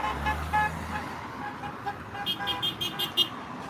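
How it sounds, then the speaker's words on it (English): Car horns from passing traffic honk in a rapid series of short toots near the end, over steady road noise from vehicles on a city street at Maryvale and Central Park, with no talk. "All these honks of support,"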